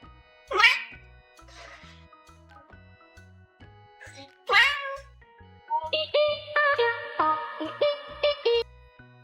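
Cats meowing in a home, several loud close meows with long tonal calls, answering a person's sung and spoken prompts, with talk and background music around them.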